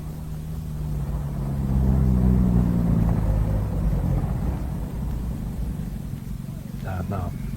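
Car engine used as a radio drama sound effect, a low rumbling motor idling and swelling as the car is brought around, steady and fairly close.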